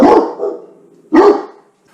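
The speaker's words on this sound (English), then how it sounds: "my dogs are fixing to bark" Two loud, close dog barks separated by about a second of quiet, each a short gruff burst, with no voices.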